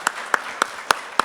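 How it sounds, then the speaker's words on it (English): Sparse, evenly spaced hand claps from an audience after a talk, five sharp slaps about a quarter second apart, fairly close and loud against a quiet room. "A round of applause for him"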